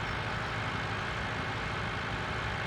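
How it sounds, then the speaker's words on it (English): A farm tractor towing a trailer, its engine giving a steady low rumbling drone at close range with no pauses and no voices. "we're going to take this trailer and tractor"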